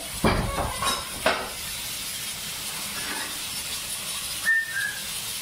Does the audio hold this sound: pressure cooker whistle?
yes